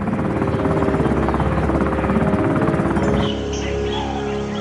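A military helicopter carrying special forces lifts off with a loud, dense rotor thrum and engine roar close by, steady throughout and easing slightly near the end.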